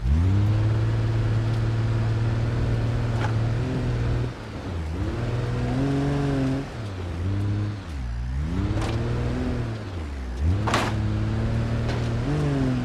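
A car driving off-road in the video game BeamNG.drive, a loud engine whose pitch rises and drops repeatedly as it revs, strains and eases over rough terrain, heard alone without talk.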